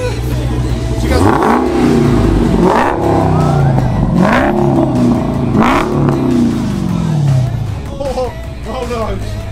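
A Dodge Challenger Hellcat V8 revs up hard in several rising, throaty bursts, loud and close, with people's voices mixed in beneath the engine noise.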